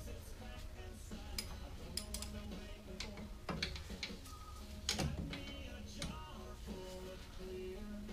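A hand socket wrench tightens rear brake caliper bolts on a 2013 Kia Sorento. It gives quick ratcheting ticks and metallic clinks in short irregular bursts, close by, with faint background noise.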